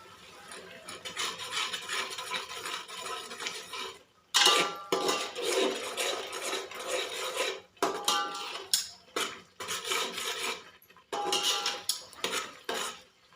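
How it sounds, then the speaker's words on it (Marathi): Ginger-garlic paste roasting in a pan for Kolhapuri-style street pav bhaji, stirred briskly with a metal spoon that scrapes and clinks against the pan in loud continuous bursts with short pauses, over a soft sizzle. "मी आले लसणाची पेस्ट घातलेली ती भाजून घेऊया"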